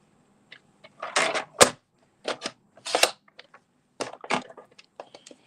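Paper trimmer blade slicing designer card stock into 3 1/4 inch squares, heard as several separate crisp cutting strokes with short pauses between them, close and fairly loud, with no talking.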